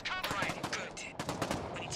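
Rapid, close gunfire in the PlayStation VR shooter Bravo Team, a dense burst of overlapping shots lasting about two seconds, with a faint voice underneath.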